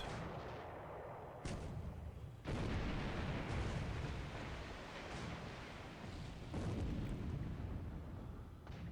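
Long-range naval gunfire booms repeatedly in a WWII carrier battle video game, a dense series of heavy, rumbling artillery blasts that overlap into a continuous barrage with sharper salvos standing out.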